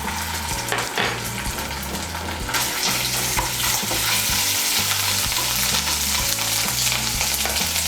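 Ginger paste hits hot oil with tempering spices for a Bengali katla fish and cauliflower curry, and a loud, crackling sizzle swells and holds steady, up close, with stirring, while music plays underneath and nobody speaks.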